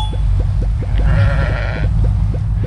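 A fluffy sheep in the video game Crossy Road bleats once in a loud, wavering call over a steady, rhythmic low thumping game soundtrack, with no speech.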